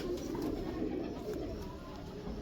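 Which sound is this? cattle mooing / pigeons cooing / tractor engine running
pigeons cooing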